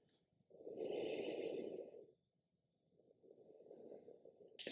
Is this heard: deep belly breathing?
yes